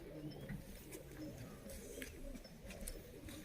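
Soft, low cooing of a pigeon mixed with faint rustling, quiet and close, running continuously for a few seconds.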